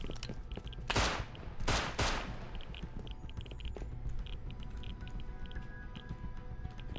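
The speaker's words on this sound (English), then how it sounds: "Who the fuck is Bradley shooting at?" Bradley APC firing its gun in the Rust video game: a few loud bursts of gunfire near the start, around the one- and two-second marks, then quieter background battle noise.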